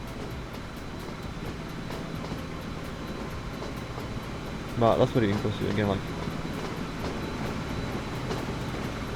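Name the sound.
train running on rails in the video game Train Fever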